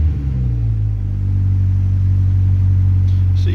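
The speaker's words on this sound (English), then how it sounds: "I don't know where this is normally supposed to rev at, but oh well, it's revving." A 2003 Mitsubishi Lancer ES engine revs up from idle to a held, steady higher rpm, a loud close low rumble throughout, with no talking.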